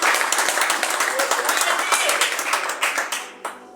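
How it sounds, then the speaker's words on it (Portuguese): A church congregation applauding, a dense sustained burst of clapping from many hands that thins toward the end, with voices mixed in. "Dê um forte aplauso de louvor ao Senhor pela sua palavra."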